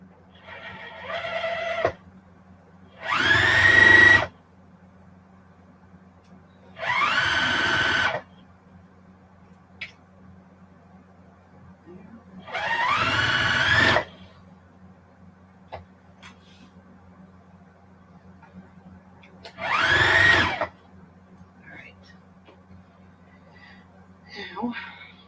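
A sewing machine runs in several short bursts of stitching across quilt starter and ender pieces, separated by pauses, over a low steady hum from the room.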